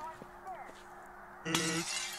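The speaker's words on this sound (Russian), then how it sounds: "Надо было с помощью него разбить стекло" Glass shatters in the video game Hello Neighbor, EscapeTheRanch mod: a sudden bright crash in the second half, under faint background game sound.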